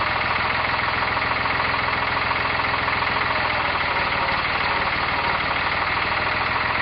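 A tractor engine runs steadily nearby while straining to pull a heavy old Stover gas engine loose from its wooden base at a north Georgia milling site, giving a constant loud rumble with a rhythmic knocking pulse.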